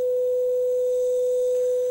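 A pure sine-wave tone played for a flame wave demonstration, a single loud, steady mid-pitched hum that holds unchanged for two seconds with no other sound.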